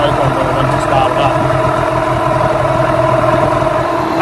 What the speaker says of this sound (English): As you can hear, the motor is idling a little bit high, so we'll drop this idle down a bit.